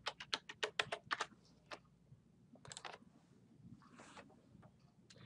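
Keys are tapped on a computer keyboard to enter a username and password. A quick run of crisp clicks comes first, then a few sparser bursts, all quiet and close with no talk.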